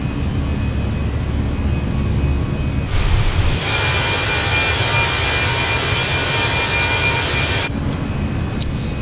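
Airbus A319 engines roar steadily through a takeoff in Flight Simulator 2024, a continuous broadband rumble that swells and brightens in the middle before settling back, loud and close with no talking.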